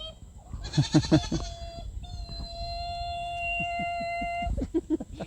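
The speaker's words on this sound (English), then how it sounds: "They're good fun goats." Goats on a homestead bleat in several wavering, drawn-out calls, some short and stuttering, close by and loud against quiet farmyard background, with no talk.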